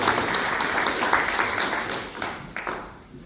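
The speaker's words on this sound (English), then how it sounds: "So can we get a round of applause?" A town hall audience applauds a retiring Oregon state legislator with a sustained round of clapping, fairly dense and steady, gradually thinning toward the end.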